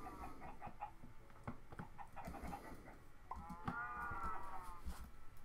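Chickens cluck in Minecraft, short repeated clucks and squawks scattered through a busy low game backdrop, fairly faint overall.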